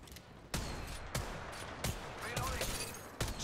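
Bursts of gunfire in the mobile battle royale shooter Apex Legends Mobile, several sharp separated shots over steady game ambience, fairly faint with a voice speaking in between.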